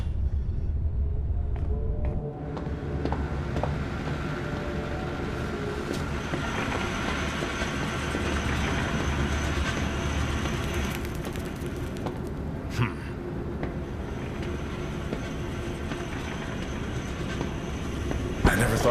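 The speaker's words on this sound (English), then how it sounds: "Now drag the trolley to the gates." A gadget trolley rolls on rails in the horror game Zoochosis, with a continuous rumbling clatter and occasional metallic squeals and clicks over about nineteen seconds.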